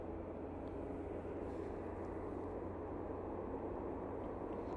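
A TUI Boeing 787-9 Dreamliner departs Manchester Airport, its engines a broad, steady roar heard at a distance with no change in level and no voices over it.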